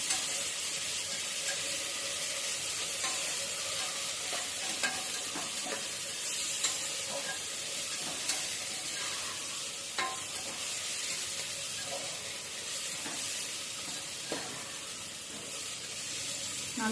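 Chicken biryani mixture with mint and coriander leaves is stirred in a hot pot, a constant sizzle broken by scattered spoon clinks and scraping as it is mixed.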